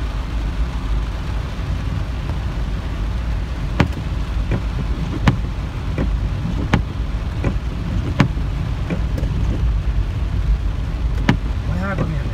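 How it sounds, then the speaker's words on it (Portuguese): Rainwater torrent rushing down at night during heavy rain in São José da Tapera, a steady loud roar of flowing water with scattered sharp clicks and splashes throughout. "O muro de água que vem descendo aí"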